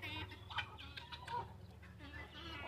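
Farm chickens and guinea fowl cluck and chatter at close range during late-afternoon feeding, with short squawks breaking through a low background murmur and faint voices nearby.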